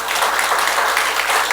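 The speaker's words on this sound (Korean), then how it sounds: "박수 한번 쳐야지" Steady, dense clapping from a church congregation at a Sunday worship service in a large Korean church, loud and continuous with no voices.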